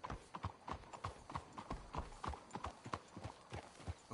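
Horse hooves clip-clop in a steady, fairly close rhythm while riding in the western video game Red Dead Redemption 2.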